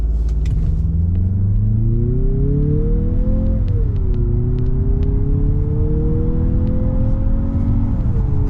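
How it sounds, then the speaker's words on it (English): A 2025 Mazda CX-50 Turbo launching from a brake rev and accelerating hard toward 60 mph, heard from inside as a loud, steady engine drone rising in pitch through two gears with a brief dip at the shift. "Let's do a little bit of a brake rev and see what it can do."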